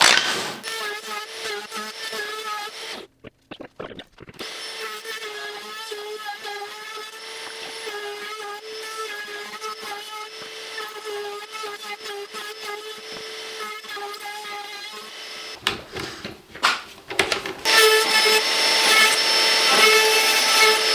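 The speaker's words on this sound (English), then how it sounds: "we're just going to go ahead and do that on our router real quick" A wood router runs along the front edges of a board with a loud, steady, high whine and rich humming overtones, briefly cutting out twice before resuming at full volume near the end.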